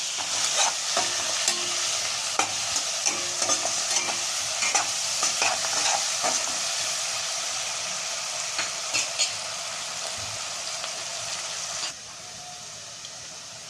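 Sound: onion being sautéed and stirred in pan

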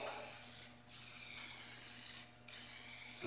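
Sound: spraying a coating from a spray can

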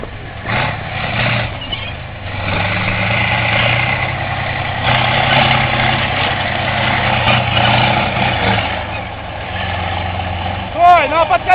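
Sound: tank engine idling before crushing a minibus

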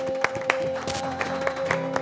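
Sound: studio audience applause

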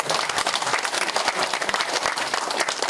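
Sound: audience applause at academic conference

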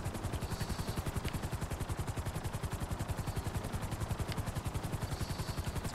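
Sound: helicopter landing in video game GTA V

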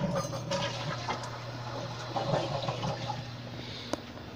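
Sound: toilet seat with water flushing

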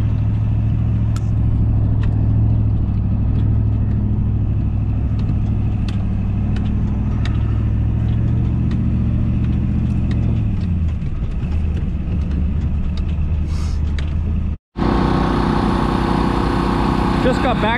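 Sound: Volvo loader engine running to warm up

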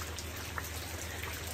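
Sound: heavy rain falling

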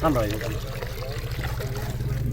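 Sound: water flowing out of a pump

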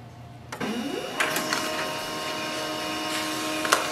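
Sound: Pantum P2509W printer printing a page

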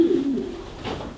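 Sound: pigeons cooing in a breeding loft

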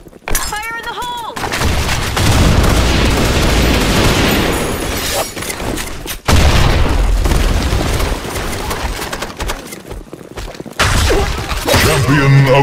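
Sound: grenade explosion in the video game Blackshot

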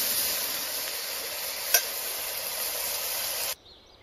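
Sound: stir-frying pumpkin shoots in lard

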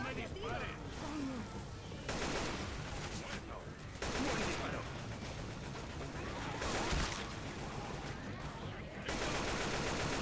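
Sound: gunfire in a video game

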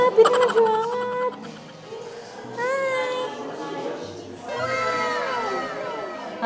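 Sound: cat meowing

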